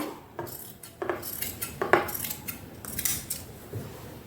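Scissors snipping through cloth while cutting out a sleeve pattern, a series of short crisp metallic snips and rustles at an uneven pace, close and fairly quiet.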